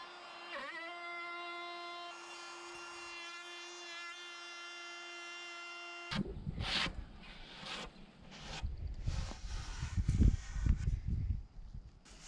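A cordless router whines at a steady pitch before cutting into wood, then gives way to rough, uneven grinding and chattering bursts as the bit bites, loud and close.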